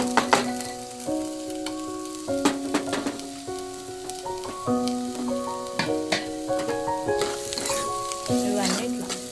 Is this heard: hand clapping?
no